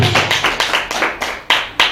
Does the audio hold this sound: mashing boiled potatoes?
no